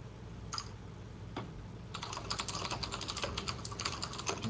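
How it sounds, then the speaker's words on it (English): Rapid keyboard typing: a few scattered key clicks at first, then a fast, continuous clatter of keystrokes close to the mic. "someone is typing like crazy"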